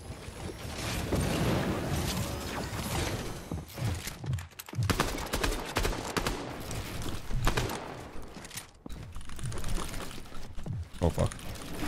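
Rapid bursts of weapon fire in the battle royale game Fortnite, dense and loud, mixed with other game effects and someone talking over them.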